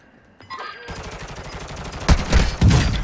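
A video game gun fires a rapid burst of shots, starting quietly and building into loud, dense gunfire over the last second.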